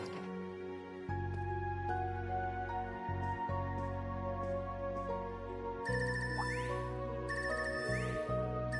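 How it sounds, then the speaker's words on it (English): A phone ringtone from the video game Trails of Cold Steel 3 plays alone, a bright electronic melody of steady tones and chiming notes with rising sweeps, holding even volume throughout. "The ringtone. I haven't heard this before."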